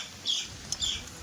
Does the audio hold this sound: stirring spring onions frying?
no